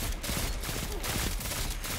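A pulse rifle in the shooter game Destiny 2 fires rapid repeated bursts, loud and dense throughout, forming a continuous stream of gunfire with no voices.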